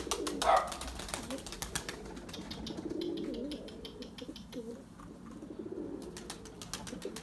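Pigeons coo softly in a crowded loft, low murmuring calls with a sharper bird call near the start and scattered clicks and rustling throughout.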